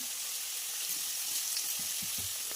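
Fish fries in a pan with turmeric and salt, giving a constant bright sizzle with faint low knocks of stirring near the end.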